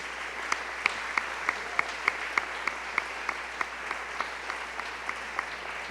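A church congregation claps hands together as an offering during a Sunday service, in a steady, evenly spaced rhythm of about three claps per second, moderately close, with no speech over it.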